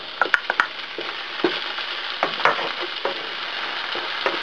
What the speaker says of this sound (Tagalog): So, igigisa natin siya. Hanggang malanta yung tomatoes and onions natin.